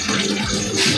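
A bucket is filled with water for washing the doorway during house cleaning, a steady, close gushing and splashing pour that swells louder toward the end.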